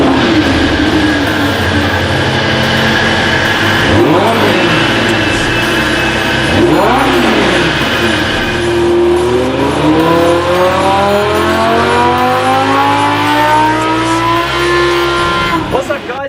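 A 2015 Lamborghini Huracan LP610-4 revs on a dyno, its loud engine note climbing and falling in sweeping pitch glides and held high, close and continuous, with a few brief dips between pulls.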